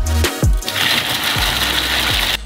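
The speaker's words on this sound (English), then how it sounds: "We crush the whole mass for 40 minutes until it turned into a paste." A mixer grinds a mass of sugar, cocoa and salt into a paste under a lid, giving a loud, steady mechanical whir with a few knocking thumps throughout.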